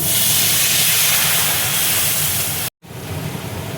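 Water poured into a hot pan of chili powder and spice for an achari brinjal dish, erupting in a loud continuous steaming hiss that cuts off abruptly and then resumes more softly.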